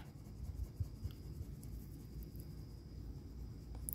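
A pen or marker scratches and rubs close by, faint and uneven, as a number is colored in on a paper savings challenge chart.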